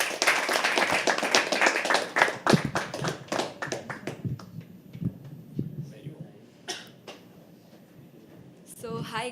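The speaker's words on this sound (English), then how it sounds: "Can we have the applause going?" Applause and scattered claps from a small audience at a live poetry open mic, loud and dense at first, then thinning into sparse individual claps before a brief burst near the end.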